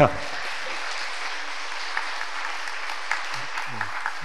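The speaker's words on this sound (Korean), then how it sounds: "박수 한번 쳐드려야 돼요. 한번 쳐주세요." A church congregation applauds honoured elders and deacons, a soft, even spread of many hands heard from a distance, with murmured voices near the end.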